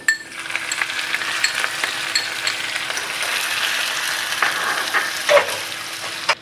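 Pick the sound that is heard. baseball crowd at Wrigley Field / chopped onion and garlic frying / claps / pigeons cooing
chopped onion and garlic frying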